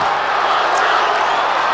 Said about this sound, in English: This crowd is roaring, urging their Bulldogs on